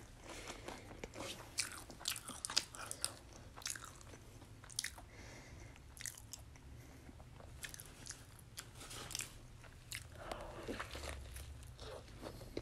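Close, wet chewing and biting of a Burger King Whopper Jr. with mayonnaise, ketchup and pickles, soft crunches and mouth sounds repeating steadily with no talking.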